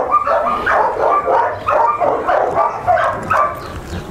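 A dog barks in a quick, rhythmic series of about eight sharp, close barks mixed with yips and whimpering, fairly loud, with short gaps between them.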